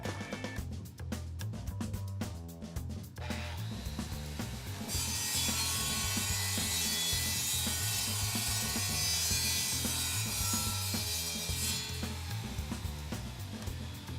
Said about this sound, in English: turn on the saw, and make the cut.